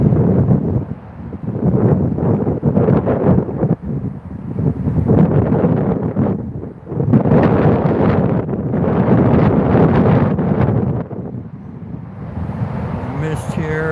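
Outdoor wind buffets a microphone in gusty, rumbling bursts that rise and fall, with brief quieter lulls between the gusts.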